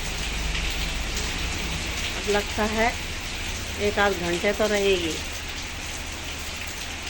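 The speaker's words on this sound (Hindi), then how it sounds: "इतनी तगड़ी बारिश हो रही है।" Heavy rain pours down steadily outdoors in a loud, continuous broadband wash, with someone speaking briefly over it partway through.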